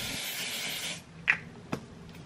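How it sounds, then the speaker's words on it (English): A steady hissing spray of aerosol hairspray on a wig lasts about a second, followed by a couple of quick clicks and faint handling noises. "Hairspray, we want to keep our body, so make sure you just spray the top up here."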